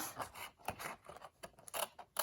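Quiet, close snipping of scissors cutting paper, a series of irregular crisp snips with short pauses between them.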